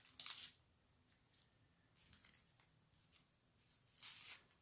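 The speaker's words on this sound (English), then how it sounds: "So let's take tape off." Tape peeled off paper in several short crackling rips, the first and last loudest, with quiet gaps between them, close and alone.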